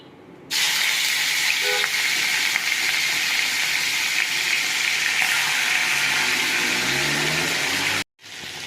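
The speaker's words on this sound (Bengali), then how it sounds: "এবার আমি মাছের মাথাগুলো ভেজে নেব" Fish heads hit hot oil in a wok and set off a loud, steady hiss of frying that holds evenly for several seconds before cutting off briefly and resuming.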